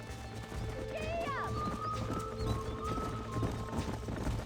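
Horse hooves in Red Dead Redemption on PS4 clop along at a steady pace on the way back to the ranch. A low rumble sits under the hoofbeats, and a brief whinny-like sweep rises near the start.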